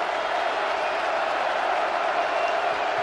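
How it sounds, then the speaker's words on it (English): At a college football game, a packed stadium crowd roars in a steady, loud wall of cheering that holds without a break, heard from within the stands. "The crowd is again loud."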